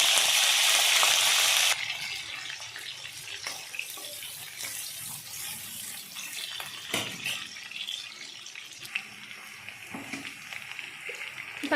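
Green chillies and onion drop into hot oil, setting off a loud hiss that burst first and then settles into a steady, close sizzle with occasional crackles and light clatter, and no talking.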